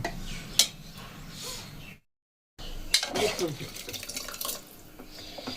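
Water is poured into a pan while cooking, a splashing trickle broken by a short gap, with a clink of metal and a voice talking over it.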